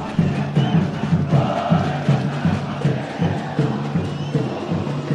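Unidos do Picerno supporters celebrating the Copa Metropolitana football championship in Sumaré, a loud outdoor crowd chanting in a steady rhythmic cadence with drum-like pulses and cheering throughout.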